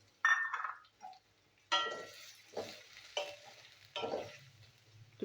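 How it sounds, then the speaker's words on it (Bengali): Chopped onion frying in a pan is stirred in short bursts, each scraping stroke bringing a close crackling sizzle with occasional light clinks, separated by brief quiet gaps. "পেঁয়াজটা আমি ভাজবো এখন।"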